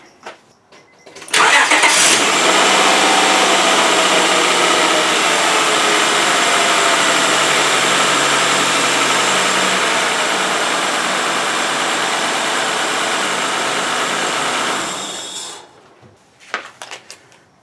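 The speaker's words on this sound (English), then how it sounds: "performance is the same, engine's running fine, job well done" A Honda Odyssey engine starts after a valve cover gasket replacement and runs at a loud, steady idle for about thirteen seconds, then shuts off, with some faint handling noises afterward.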